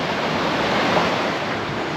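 Clear, slightly milky stream rushing through Partnach Gorge near Garmisch, a loud, dense, steady wash of flowing water filling the whole stretch without voices.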